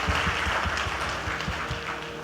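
Crowd applause at a network marketing seminar in India, a dense continuous patter of many hands clapping that stays steady and fairly loud throughout, with no voice over it.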